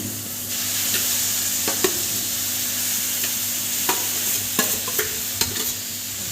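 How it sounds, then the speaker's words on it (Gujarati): Beetroot frying in hot ghee as it is stirred, a steady sizzle under repeated scraping strokes of a spoon in the pan, close and even, with a low hum behind it. "ઘી આપણું ગરમ થઈ ગયું છે તો એમાં આપણે બધું બીટ નાખી દઈશું"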